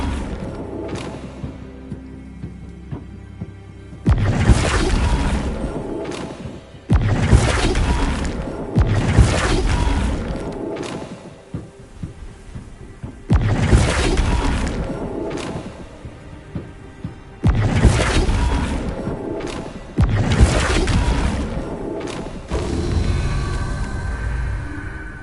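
Bombarda spell blasts from the wizarding game Hogwarts Legacy land as about six loud, separate booming explosions with crashing debris, spaced several seconds apart, each decaying into rumble before the next.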